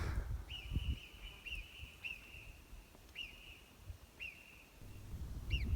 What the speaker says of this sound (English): the sound of birds calling to each other across the valley